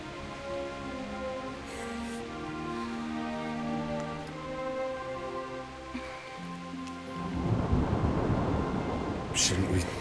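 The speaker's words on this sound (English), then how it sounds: "Not afraid of thunderstorms, are you?" Thunderstorm in the video game Kingdom Come Deliverance: steady rain with a long low thunder rumble, then a louder crackling roll of thunder and heavier downpour toward the end.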